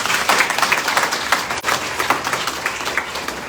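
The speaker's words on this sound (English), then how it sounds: "A big clapping for that." An audience claps together at an Ekadasi program in a Gaudiya Matha temple in Faridabad, India, a dense, steady patter of many hands that carries on for several seconds without a break.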